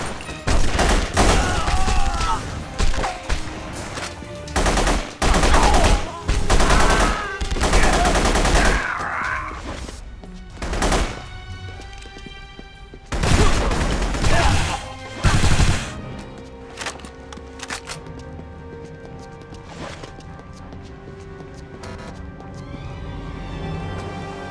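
Dense video game gunfire from The Punisher rattles in loud repeated bursts and sustained volleys, with impacts between them, then fades to quieter ambience near the end.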